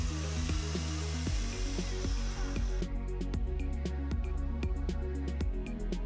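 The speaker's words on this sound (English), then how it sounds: "Near the top of each pencil, drill a small horizontal hole." A small power drill whines steadily, its pitch shifting as the bit bores a small horizontal hole through a wooden pencil, with faint ticking clicks through the second half.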